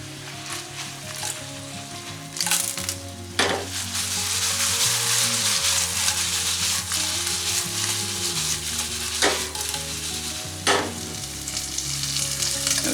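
Pork and chicken for adobo frying in a pan, a loud, dense, continuous sizzle with a few sharp utensil clicks, heard under steady low music.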